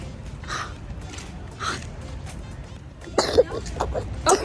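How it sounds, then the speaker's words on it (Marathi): Several short coughs and throat clearings, a few separate bursts near the start then a quicker cluster toward the end, close and moderately loud. "अरे बापरे, खोकला कोणाला आला?"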